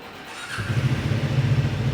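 Triumph Speed 400 motorcycle engine starting and settling into a steady, close, loud idle after about half a second of quiet, with no talk over it.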